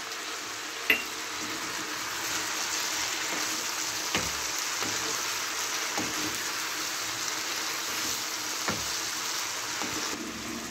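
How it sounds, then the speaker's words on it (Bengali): Spice paste with ground ginger paste frying and being stirred in a pan, a steady soft sizzle with a few sharp clicks of a spoon against the metal, alone and fairly faint. "ভালো করে মশলাটা কষে নেব।"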